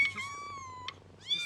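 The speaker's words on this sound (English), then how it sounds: "We just happened to find a stray cat in the alley." A stray cat meows in a video game scene, with a few short tonal calls rising and falling, moderately close and clear over a quiet background.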